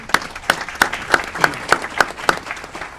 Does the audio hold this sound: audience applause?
yes